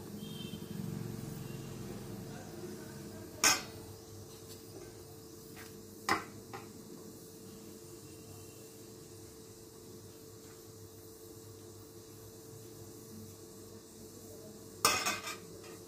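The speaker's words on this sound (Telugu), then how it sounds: "ఈ పిండిని ఒక్కొక్క ఇడ్లీ పాత్రలో ఒక్కొక్క గుంటలో వేసేసుకుందాం" Ragi batter spooned into idli stand moulds in a home kitchen: quiet background hum broken by a few sharp metallic spoon clinks against the moulds, spaced apart.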